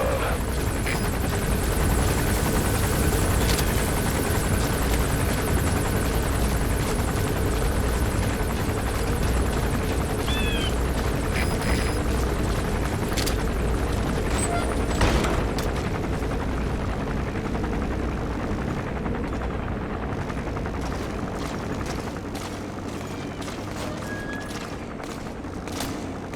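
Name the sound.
arms dealer's patrol helicopter in video game Metal Gear Solid V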